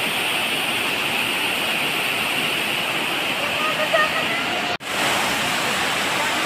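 Strong river current rushing through Lower Langun cave, a steady loud roar of water that fills the space, with a brief dropout near the end.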